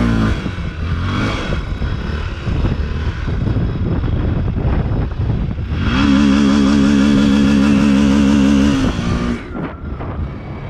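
Honda Falcon 400i and Honda CB300R motorcycle engines rev hard and roar for a wheelie, rising in a sustained high-pitched burst midway, then dropping off, loud and close with no talking.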